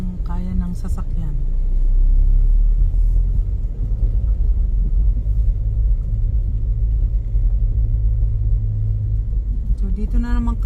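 A car drives steadily over a rough snowy winter road, a continuous loud low rumble of engine and tyres filling the cabin for about ten seconds, with brief voices at the start and end.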